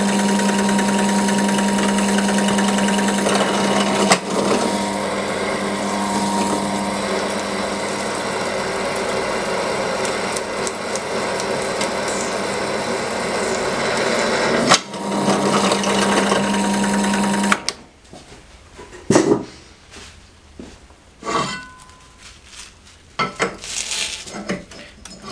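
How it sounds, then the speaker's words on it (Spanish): Power drill with a slightly dull bit cutting metal lubricated by homemade cutting fluid, a steady loud whine for about seventeen seconds with a brief break, then stopping into scattered clinks and handling noises. "Como veis, va cortando bastante bien, aunque la broca está un poquito desafilada"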